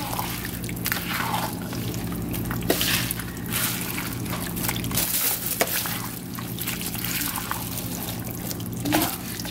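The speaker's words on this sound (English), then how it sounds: "I'm just gonna go ahead and stir these peppers and onions in." Peppers and onions being stirred into chili in a crockpot: a steady, close, wet sloshing and dripping sound over a constant low hum, with no talking.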